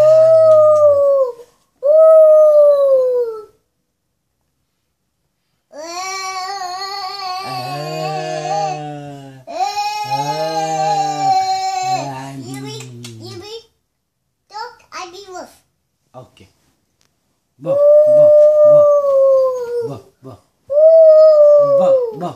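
People, including a child, imitate a wolf and a dog howling, with long wavering howls at the start and end and whimpering, yelping bursts between them, close and loud with short pauses of silence.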